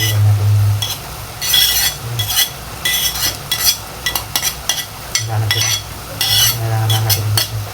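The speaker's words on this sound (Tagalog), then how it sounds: "Mix the carrots and chicken." Carrots and chicken stirred in a pan with a utensil, producing repeated close scraping and clattering strokes over a soft frying sizzle, with short pauses between bursts.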